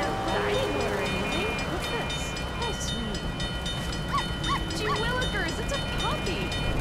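A puppy yips and barks several times in a radio advertisement inside Grand Theft Auto 3 Definitive Edition, the short bright barks clustered midway over a steady, busy background hum.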